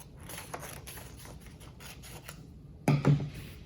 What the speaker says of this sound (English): So I'm going to cut that off as well.